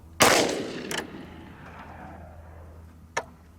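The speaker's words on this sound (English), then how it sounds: "First round of American Federal HST. Fire in the hole." A single close, loud pistol shot from a Ruger RXM with compensator and True Precision barrel in a Ransom Rest, firing a Federal HST round, cracks sharply and decays outdoors, followed by a fainter pop and a later sharp click.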